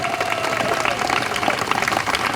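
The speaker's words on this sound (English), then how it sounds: "Please join me in offering one more round of applause to this remarkable class" A graduation ceremony audience at Friends School Mullica Hill gives a round of applause for the class of 2025, a dense steady wash of clapping with a faint sliding tone running underneath early on.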